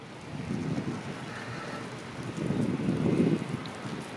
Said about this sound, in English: But that is indeed the subway rumbling underneath our feet.